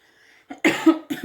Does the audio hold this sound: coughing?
yes